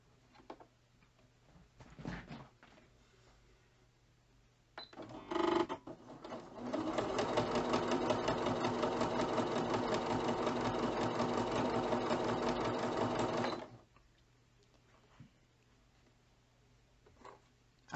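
A Singer Quantum Stylist 9960 sewing machine stitches through two layers of cotton bed-sheet fabric, a steady rapid rhythmic whirring for about seven seconds, preceded and followed by faint clicks and handling noises.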